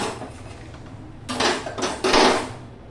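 Boiled potatoes being lifted out of their cooking water, with metal pots and utensils clanking and scraping close by in a few loud bursts over a quiet kitchen background.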